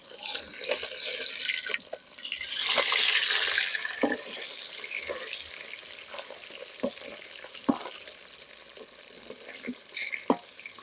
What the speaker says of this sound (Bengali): পাতিল গরম হয়ে গেছে তেল দিয়ে দিলাম মাছ বাজার জন্য টাকি মাছটা বাজা নিব